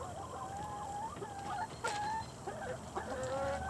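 Several chickens cluck and chatter continuously at close range in a backyard food forest, overlapping soft calls over a steady background hum.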